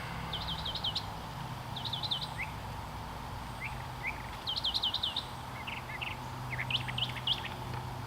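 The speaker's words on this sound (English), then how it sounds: "You hear the birds singing" Birds singing outdoors, bursts of high chirping trills repeating at intervals over a soft steady background hum.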